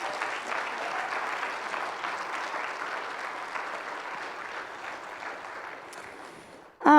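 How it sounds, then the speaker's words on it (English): Dense, sustained applause fills a school chapel as an audience rewards student theatre performers, holding steady before thinning slightly and cutting off with a sharp sound at the end. "So can we give them another round of applause for their work?"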